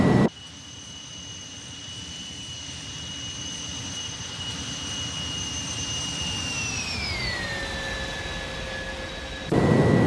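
Airliner takeoff in a flight simulator game: a continuous whining jet-engine roar with steady tones that glide downward as thrust settles, loud and alone, cut short at both ends.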